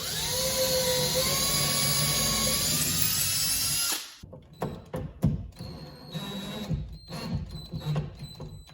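A power drill bores a hole through cabinet material during a DIY cabinet install, whining loudly and steadily for about four seconds before stopping, followed by scattered knocks and handling noises.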